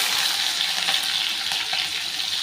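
Mustard seeds and green chillies sizzling in hot coconut oil, a loud, steady, close crackling hiss with faint pops throughout and no speech.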